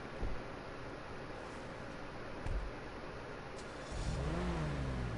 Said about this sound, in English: Oh, that has a nice engine sound to it.